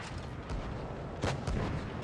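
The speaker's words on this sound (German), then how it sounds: "Wir haben hier einen Schuss gebounced." A tank shot bounces off armor in a video game, heard as a quiet burst of gunfire-like impacts with a sharper crack near the middle over steady background noise.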